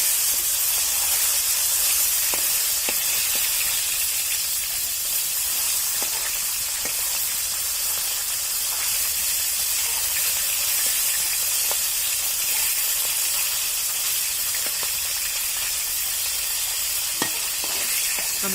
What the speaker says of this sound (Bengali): আমাদের মাছ ভাজাটা প্রায় হয়ে গিয়েছে